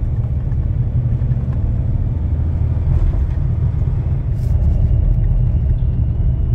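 A Beta 200RR enduro motorcycle engine drones steadily while riding on the road, a loud, continuous low rumble with wind noise and no talking.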